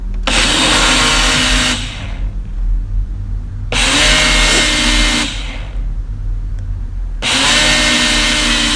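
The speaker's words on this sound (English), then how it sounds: "see how the spinach has been like all blended" Blender blending spinach, orange juice and passion fruit, three loud close bursts of whirring motor noise, each about two seconds long, separated by short pauses.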